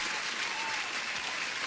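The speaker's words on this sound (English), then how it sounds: "I have to give you an applause for that" Steady, even clapping, like the sound of many hands at a distance, brief and moderately soft, with no voices over it.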